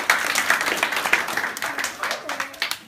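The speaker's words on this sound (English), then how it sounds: "can we all give them a round of applause for their effort?" A short burst of clapping from a small group, uneven and lively, with voices mixed in.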